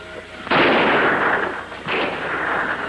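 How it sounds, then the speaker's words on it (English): Two loud gunshots ring out about a second and a half apart in a jungle setting, each a sharp blast with a lingering, rumbling tail, fired to frighten an animal. "A few shots ought to quiet him down."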